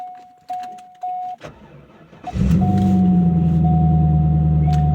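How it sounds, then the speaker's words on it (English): A 2000 Corvette with a weak battery is cranked briefly, then its engine catches and settles into a loud, steady idle rumble, preceded by a few chimes and clicks inside the car. "previously when I'd start the car, it was a little bit sluggish"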